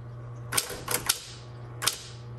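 Several sharp keystrokes from a 1960s Smith Corona Coronet electric typewriter strike in an uneven burst, typing in red ribbon, over a steady low electrical hum.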